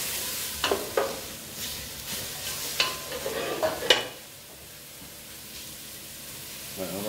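Red wine poured over a carcass in a hot pan brings bursts of sizzling and stirring scrapes in the first four seconds, then settles to a quieter hiss.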